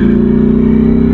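A Ducati Streetfighter V4S naked sports motorcycle engine holds a loud, steady low rumble with even pulsing, close up and alone, without rising pitch.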